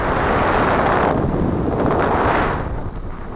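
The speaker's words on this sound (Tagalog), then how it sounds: "Lumalakas na ang hangin." Strong wind roars steadily across the microphone while parasailing in Boracay, a dense continuous rush with slight swells and no voices.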